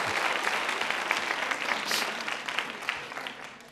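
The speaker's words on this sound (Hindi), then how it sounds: "तालियां बजाइए माँ के सम्मान में।" A crowd at a college quiz show event applauds in honor of mothers, a dense, continuous roar of clapping from many hands, moderately loud and slowly tapering off near the end.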